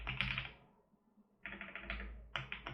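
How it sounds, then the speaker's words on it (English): Bursts of computer keyboard typing during rigging work, rapid clustered keystrokes in two or three short runs separated by a quiet pause, close and moderately loud. "I'm gonna type here"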